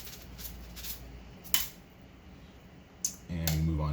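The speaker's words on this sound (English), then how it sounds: "Give that a couple of shakes to make sure that all of our water is drained out." Wet soaked rice rattling in a metal strainer as it is shaken to drain water, with a few brief metallic clinks and scraping bursts and a louder rustle near the end, while a voice talks quietly in the background.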